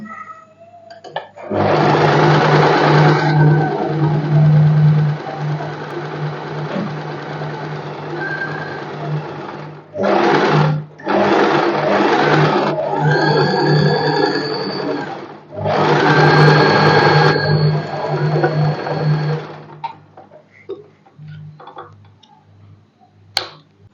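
A sewing machine double-stitching the lining of a padded princess-cut blouse. It runs in loud, close, whirring bursts of several seconds each, separated by brief stops.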